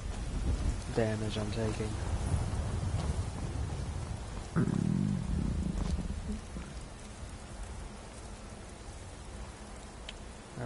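Steady rain hisses throughout with a low rumble of thunder in the video game Skyrim, while someone talks over it in short bursts.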